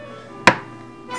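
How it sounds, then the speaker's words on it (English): A single sharp knife chop through butter on a cutting board lands close and clear, followed by a faint second tap as the blade comes down again. "Cut the butter into cubes and set it aside."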